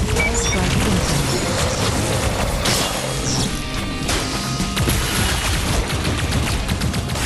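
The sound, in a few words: airstrike explosions in the VR video game Plasmaborne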